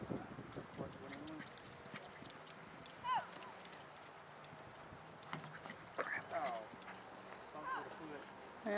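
Horse hooves clip-clopping as the horse is ridden, irregular soft thuds at middle distance under frequent talking and some faint background sounds.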